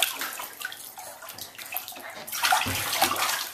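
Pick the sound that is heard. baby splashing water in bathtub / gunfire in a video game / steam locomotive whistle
baby splashing water in bathtub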